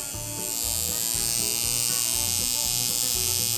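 A plastic tattoo machine with a rear spring runs close up, giving a steady, rapid electric buzz that settles into an even mechanical drone after a brief start-up.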